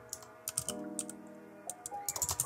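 Quick, light clicks of a computer keyboard being typed on at close range, in uneven bursts with short pauses, quiet and without any talk.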